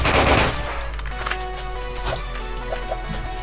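Pistol gunshots in a first-person shooter video game, with a loud burst of firing at the start followed by several sharper separate shots and echoing reports over a steady game background.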